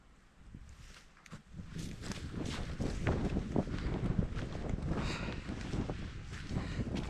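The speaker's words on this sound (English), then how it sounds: "The wind's blowing." Chilly wind gusting across an open mountain summit on a winter hike to Bald Knob, a steady, close roar with microphone buffeting that swells and holds throughout, plus faint rustling.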